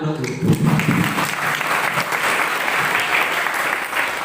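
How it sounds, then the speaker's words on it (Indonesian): Audience applause at an Indonesian talk show, a steady wash of clapping from a crowd filling the room, loud and continuous after a brief voice at the start. "Tepuk tangan dong dulu."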